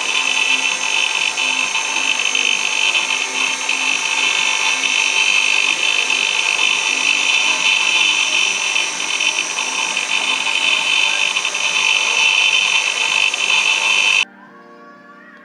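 High-speed engraving tool spinning for micro-text engraving, a steady loud high-pitched whine held for about fourteen seconds before cutting off abruptly.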